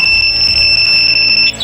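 A loud, piercing electronic alarm from a two-way alarm on a Yamaha R15M motorcycle sounds as a steady high-pitched tone, continuous and unchanging, close by.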